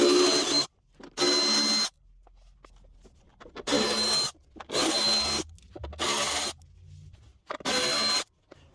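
A power tool spins out the 10 mm bolts holding a G35 sedan fender, in six loud whirring bursts of roughly half a second to a second, separated by short quiet gaps.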